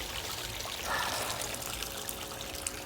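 Water runs steadily through a rocking cleanup sluice carrying gold concentrates of black sand, a faint, continuous trickle and pour with no pauses.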